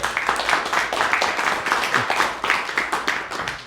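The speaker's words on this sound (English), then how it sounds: "Can we have a big round of applause for all the volunteers?" Audience at a tech conference panel claps for the volunteers, a fairly close, rhythmic round of hand-clapping from a modest crowd that carries steadily throughout.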